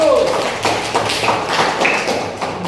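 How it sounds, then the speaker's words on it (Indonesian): A classroom claps for group 1, a quick burst of close, tapping claps from several people, with a voice talking over the clapping. "Tepuk tangan untuk kelompok 1."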